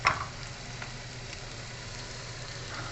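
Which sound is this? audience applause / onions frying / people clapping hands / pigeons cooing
onions frying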